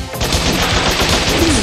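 Machine gun fire from the video game Bot Vice rattles as one loud, fast, continuous burst of evenly spaced shots.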